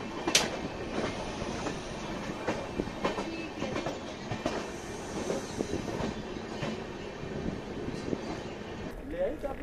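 Yoga Express passenger train rolling along the rails, heard from inside a 1AC coach, with a steady rumble and repeated clickety-clack wheel beats throughout, moderately loud and continuous.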